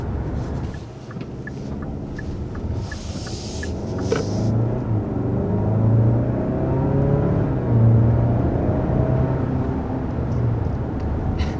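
A 2021 Hyundai Santa Fe with the 2.5 turbo engine and eight-speed dual-clutch gearbox accelerating, a steady loud engine rumble and road roar heard from inside the cabin, with the pitch rising through shifts and no talking.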